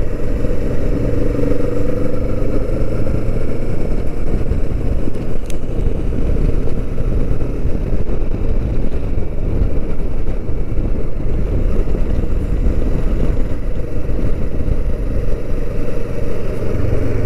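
A Kawasaki Vulcan S motorcycle rides along a road at West Mount Cotton with a loud, steady engine drone. Heavy wind buffeting on the microphone runs through the whole ride.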